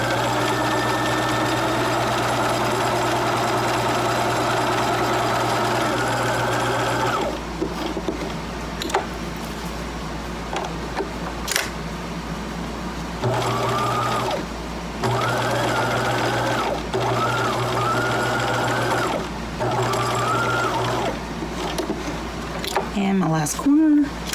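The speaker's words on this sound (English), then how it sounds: "do one more line of stitching" A sewing machine stitches a children's fabric mask in long, loud, close runs of rapid whirring, first continuous, then broken into several shorter bursts with brief pauses as the fabric is pivoted at the corners.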